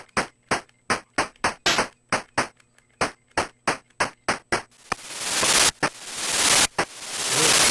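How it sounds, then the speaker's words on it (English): Shooting effects from a Tandy Color Computer game played through the Speech and Sound Cartridge: a steady train of sharp, evenly spaced electronic pops, then long swelling bursts of harsh white-noise hiss, loud and alone. "See, now they're shooting up. That's white noise there."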